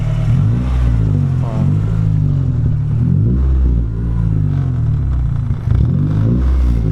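An Acura Integra fitted with an eBay exhaust revs up close and loud, its deep rumble swelling and falling in several throttle blips over a steady idle.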